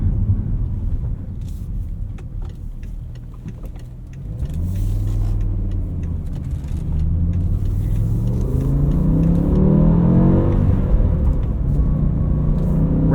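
A BMW M5 E60 with its V10 and six-speed manual gearbox is driven on the road. The engine drones low, then revs climb steadily and loudly, with a rising, rich mechanical note heard from inside the cabin.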